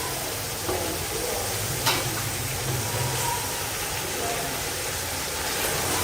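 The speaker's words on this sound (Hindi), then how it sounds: "हमने इसमें कचनार डाल दिया। अब हम इसको 2 मिनट तक पकाएंगे।" Beef with kachnar buds cooks in a pan, giving a steady close sizzle with a few faint clinks and stirring noises.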